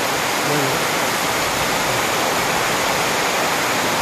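Steady, loud roar of falling water, a dense continuous rush with no breaks throughout.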